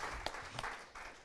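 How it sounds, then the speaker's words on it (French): An audience at a panel discussion on death applauds briefly: a short patch of scattered clapping with a few sharper claps standing out. "je crois qu'on va vous applaudir"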